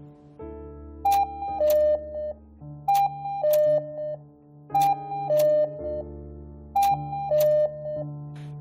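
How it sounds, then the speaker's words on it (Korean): A cuckoo clock chimes in the small hours: four evenly spaced two-note cuckoo calls, each a higher tone falling to a lower one over a soft mechanical hum, clear and fairly close in a quiet room. "알람처럼 시간을 설정하고 그 시간에 맞춰 뻐꾸기가 나오며 우는 그 뻐꾸기 시계 소리요"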